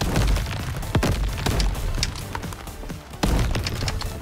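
Rockets fired and exploding in Crab Champions: a dense barrage of loud booms and sharp blasts, one after another in quick irregular succession, with a brief lull before another heavy burst.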